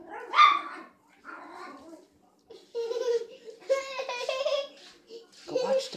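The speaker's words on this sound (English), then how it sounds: "Jojo, what are those puppies doing?" Small puppies yipping and barking in a home kitchen late at night, several short high bursts scattered across the moment, close and fairly loud, with people talking and a voice mixed in.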